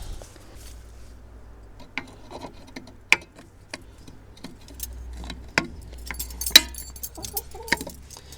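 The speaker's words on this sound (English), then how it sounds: "chicken, I hope you're not trying to get in the van there" Chicken clucking softly near a van beside a Toyota Hilux Surf under repair, scattered short clucks and faint clicks and taps over a quiet low hum.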